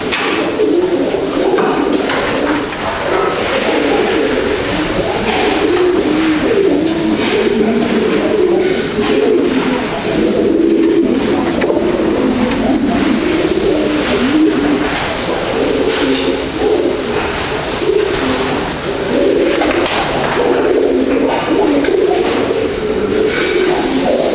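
Pigeons coo continuously in a loud, close chorus of low rounded calls, the racing birds overlapping in steady layered rhythm throughout with no talk.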